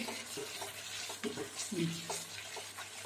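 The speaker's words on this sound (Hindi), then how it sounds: "इसमें हम डालेंगे थोड़ा सा देसी घी और इसे चलाएंगे" Mango halva with desi ghee being stirred in a pan, a soft scraping and gentle sizzle with a few spoon knocks over a low steady hum, close and fairly quiet.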